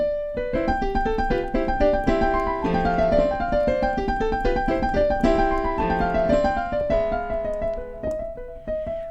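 Solo piano rattling through a rapid run of quick thirty-second notes from Beethoven's Für Elise, bright and continuous, with dense flurries of tones over sustained bass.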